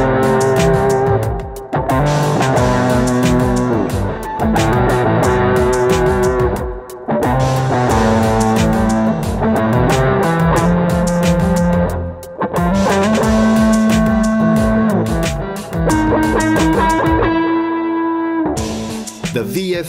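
A heavily distorted bass guitar through a distortion pedal plays loud, saturated riffs and sustained notes, with brief pauses between phrases and a gritty, thick tone.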